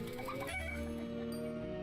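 Chicken clucks come from a video game trailer, heard as short fowl calls set against a steady, sustained musical drone that fills the background.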